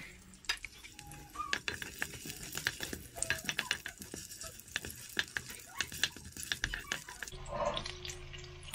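Onion frying in a little oil in a pan for fish sinigang, a close crackling sizzle broken by frequent clinks and scrapes of stirring, with a brief burst of running water near the end.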